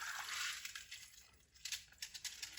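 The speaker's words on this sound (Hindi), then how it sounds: "अब मैं चावलों का पानी निकाल दूंगी।" Water poured off soaked rice while cooking, a faint trickling and splashing stream with a few uneven sloshes and drips, close by and quiet.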